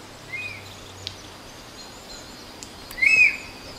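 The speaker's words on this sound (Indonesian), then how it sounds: "Suara burung." A few short, faint bird chirps sound over a quiet outdoor background, the clearest one near the end.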